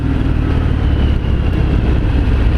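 A 2018 Harley-Davidson Fat Bob on a test ride accelerates hard, its engine a loud, close, continuous rumble that builds steadily with no voices over it.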